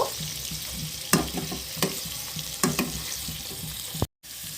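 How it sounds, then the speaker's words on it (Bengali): Steady sizzle of paneer frying in a pan over low flame, with a few sharp scraping clicks of a utensil turning the pieces, close by. "পনিরগুলো মোটামুটি ভাজা হয়ে গেছে।"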